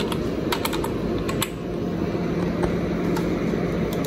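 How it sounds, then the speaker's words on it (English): Rapid keystrokes on a computer keyboard as a password is entered on a Mac running macOS Big Sur beta, steady close clicking over a constant fan-like hum, no voices. "let me type in my password"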